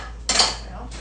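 Kitchen utensils clatter and clink together in a short burst as someone rummages for a stirring spoon near a frying pan, a bright metallic jangle lasting about half a second, then a faint rattle follows.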